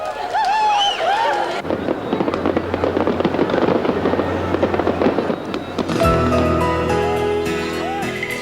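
Dense crackling bursts of fireworks at a Japanese summer festival go off continuously, loud and close, with a bright whistling rocket early on and shimmering tonal sparkles toward the end.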